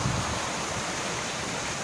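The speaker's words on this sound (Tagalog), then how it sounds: "tuloy-tuloy pa rin ang buhos ng ulan" A steady, dense wash of broadband noise of heavy rain pouring down in Manila, continuous and unchanging throughout, with no voices.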